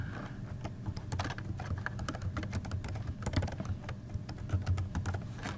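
Fingers rattle steadily across a computer keyboard to enter a password, a dense run of close, clicky keystrokes that carries on throughout without any speech.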